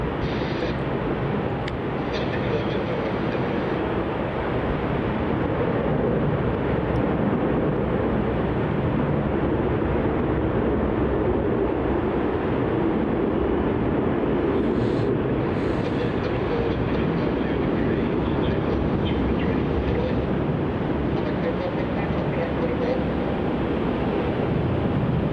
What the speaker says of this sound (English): This is Virgin Australia flight 735 departing off to the Gold Coast.